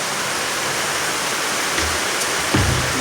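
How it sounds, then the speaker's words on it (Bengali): Torrential night rain, a steady broadband roar like falling water, fills the whole stretch at constant loudness, with a couple of faint low knocks near the end. "মুসুলধারে বৃষ্টি হচ্ছে রোজ দিন"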